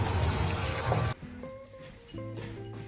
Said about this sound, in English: then you're going to rinse it with cold water to get that pasta to quit cooking